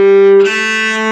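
A bowed string instrument plays notes of a basic scale passage, a sustained pitched tone shifting to a new note partway through, close and clear with no talking.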